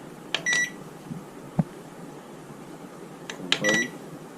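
Microwave oven control-panel buttons give short electronic beeps during a function test, a pair of chirps at the start, a single click-like tap midway, then another pair near the end, quiet and close.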